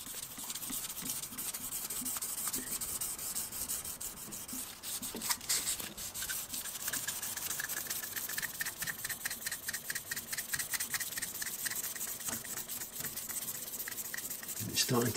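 Hand sanding and polishing a small piece with abrasive paper, twisted to expose fresh grit, giving a steady close rubbing and scraping texture that runs continuously with rhythmic strokes.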